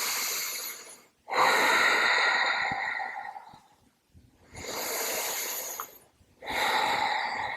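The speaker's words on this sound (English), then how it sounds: "A couple of breaths here." Slow, deep breaths taken during a standing yoga pose, three long airy exhalation-like swells separated by short silent pauses, close to the microphone with no talking.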